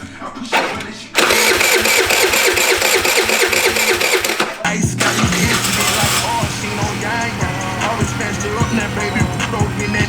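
A GY6 150cc scooter engine, swapped into a 50cc moped frame, cranks and catches, then settles into a steady, loud, close idle with a brief stumble partway through.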